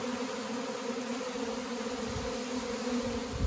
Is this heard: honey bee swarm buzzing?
yes